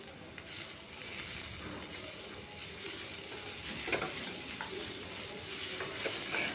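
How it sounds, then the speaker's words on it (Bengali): Spiced kakrol (spiny gourd) fries in a pan with a continuous moderate sizzle, broken by occasional scraping stirs of a spatula, and no voices. "এই কাঁকরোলের সাথে মশলাটাও খুব সুন্দর ভাজা হয়েছে"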